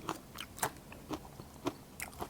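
A chilled, still-hard mak duai kai wild fruit bitten into, giving a series of short, crisp crunches at a steady pace, close and fairly quiet, with no talking.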